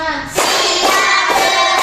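A class of children claps along in a counting chant, producing loud, nearby bursts of hand claps at a regular beat following a brief quieter start.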